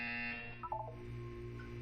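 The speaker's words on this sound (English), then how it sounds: "You will hear a buzzer. When you hear the buzzer, look down at the floor." Buzzer in the Portal 2 video game: a short electronic tonal sound with a brief wavering burst, quiet and alone over a low steady hum.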